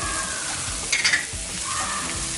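Turmeric, chilli and coriander powders sizzle loudly in a hot pan for Madurai mutton keema kari dosa, with scraping stirs and a brief clatter of the spoon midway.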